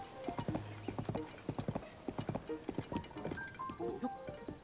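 Hooves of a giant Gerudo horse in Tears of the Kingdom clop along in a quick, steady rhythm, close and clear, with a brief whinny-like call near the end.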